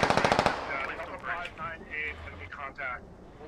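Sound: 50 cal machine gun fire in video game Squad Ops

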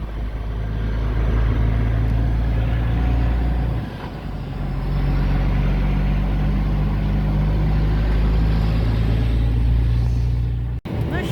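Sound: long semi-trailer truck driving

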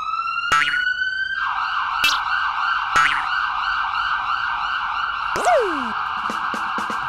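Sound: police siren sound

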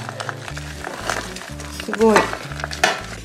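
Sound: onion, cabbage, mushrooms and garlic going into a large pot

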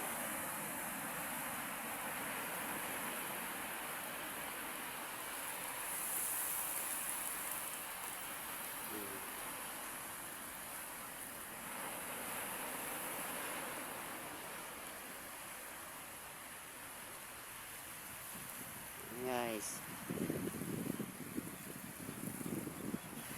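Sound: sea waves at an island shore

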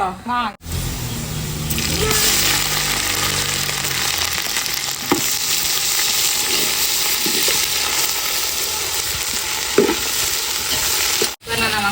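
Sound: onions frying in a pan for chicken biryani

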